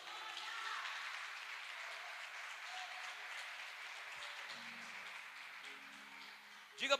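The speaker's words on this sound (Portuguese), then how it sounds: "Eu aplaudi a Ele por isso." Congregation in a church service applauding in a broad, steady wash of clapping that continues for several seconds at moderate distance, with faint voices underneath and a brief louder burst at the end.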